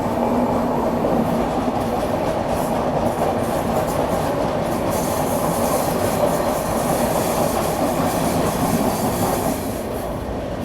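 Swatantrata Senani Express running near Prayagraj, heard from on board: a steady, loud roar of wheels and carriage rumble with faint rhythmic clatter and some high squealing throughout, with no voices.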